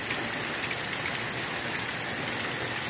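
Heavy rain pours steadily during a storm in Pekin, Illinois, a dense continuous hiss of drops hitting surfaces with no talking.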